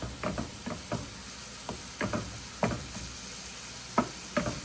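Hamburger meat and onions browning in a pan, a steady sizzle broken by repeated scraping knocks of the spatula at an irregular rhythm, close and clear with no talking.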